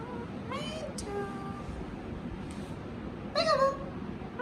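An Indian ringneck parrot imitates a cat's meow with several short, bright meows spaced across a few seconds, close and fairly quiet.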